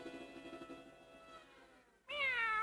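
A Manx cat gives a drawn-out, wavering meow that fades away. A second, louder meow follows close by.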